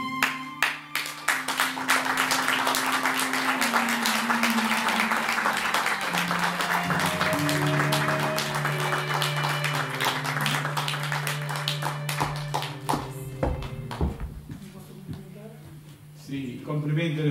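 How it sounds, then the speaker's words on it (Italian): Audience applause at a poetry and song event in Italy, sustained clapping that fades toward the end, mixed with lingering musical tones and a voice speaking. "Complimenti le facciamo con un altro applauso a Carmela Trovato."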